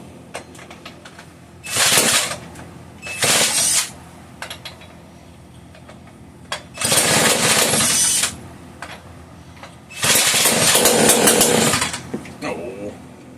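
A Homelite 150 chainsaw with no bar and chain fitted, run on the throttle hold, roars loudly in four separate revving bursts with quieter idle gaps between them. Faint voices are present in the background.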